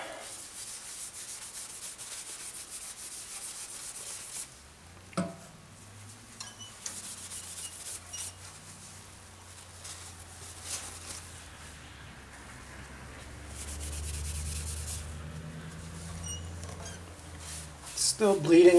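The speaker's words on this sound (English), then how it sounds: "Just going to put some friction polish on it now. Rub that in, let it dry for a little bit." Friction polish being rubbed onto a turned apple wood lidded pot on the lathe, a steady broadband rubbing hiss that runs throughout, swelling and easing with a few small knocks and a louder bump near the end.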